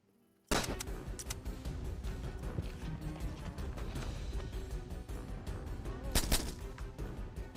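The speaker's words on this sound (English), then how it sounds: "Shooting, bro." Gunfire from a low-budget action film plays loudly and without a break, a dense run of shots and blasts with a sharper burst near the end.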